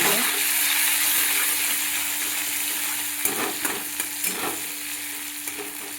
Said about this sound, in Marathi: तर आता आपण ही असं आपलं टमाटर तळलेलं आहे.